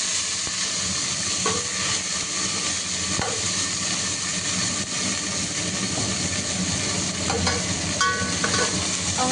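Mint and coriander leaves fry in ghee in a pan for basmati ghee rice, giving a steady loud sizzle and hiss with a few soft stirring scrapes throughout.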